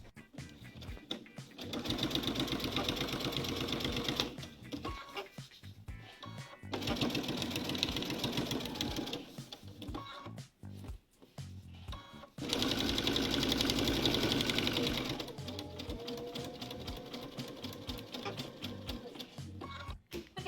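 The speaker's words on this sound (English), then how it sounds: "we're just going to sew that seam all the way across from there down to there" A sewing machine stitches a quilt-as-you-go border seam in three long bursts of rapid, steady whirring, split by short pauses.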